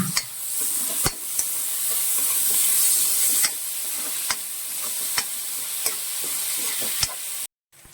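Tomato goes into a sizzling salted masala in a pan for a sprouted-coconut masala curry, giving a loud, steady frying hiss with sharp periodic taps of the stirring spoon, which cuts off abruptly near the end.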